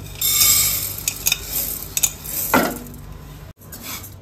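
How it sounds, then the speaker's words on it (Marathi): Rice dry-roasting in a pan over medium heat for chakli bhajani flour, with close, dry scraping and clinking of a spoon stirring the grains in short bursts and no talk. "थोडे थोडे तांदूळ घालून आपण भाजून घेऊया"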